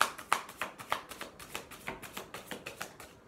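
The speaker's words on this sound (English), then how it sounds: "One more shuffle." A deck of cards is shuffled by hand in a quiet room, with a steady run of sharp, close taps and flicks at roughly three per second.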